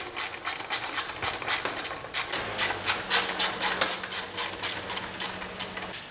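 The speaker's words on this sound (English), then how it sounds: "I need to bolt it back up to the frame," Rapid metallic ratcheting while a part is bolted back onto the frame of a Yamaha Raptor 700 ATV, a steady run of close, evenly spaced clicks with a faint low hum underneath.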